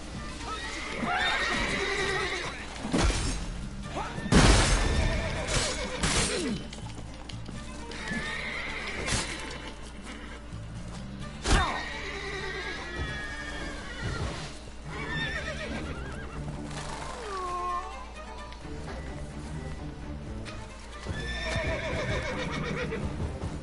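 A horse in the video game The Witcher 3: Blood and Wine whinnies several times, loud and close, over clip-clopping hooves and scattered impacts.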